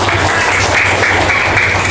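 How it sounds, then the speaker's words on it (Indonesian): A classroom audience claps steadily and densely for a couple of seconds, a continuous loud wash of applause with no talking. "Beri tepuk tangan dulu."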